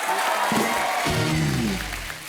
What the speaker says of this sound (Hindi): इसके लिए जोरदार तालियां बनती हैं।